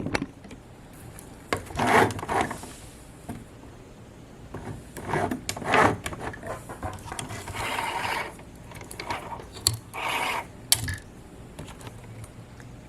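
A compact portable sewing machine running a zigzag stitch, with uneven bursts of mechanical clatter and whirring separated by pauses, close up with no talk.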